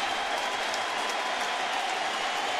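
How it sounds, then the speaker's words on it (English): A baseball crowd at a Mets home game against St. Louis rises to its feet for Albert Pujols, a dense wash of applause and cheering filling the stadium steadily with no clear voices on top. "The crowd gets on their feet."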